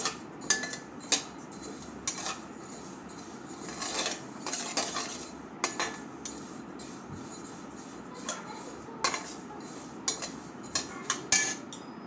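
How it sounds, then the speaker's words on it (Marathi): Fennel seeds are roasted over a low flame in a kadhai, stirred with a metal spoon that scrapes and clinks against the pan in irregular bursts, close and fairly loud with no talk. "एका कढईमध्ये गॅसची फ्लेम लो ठेवायची आहे आणि हलकीची सोप भाजून घ्यायची आहे"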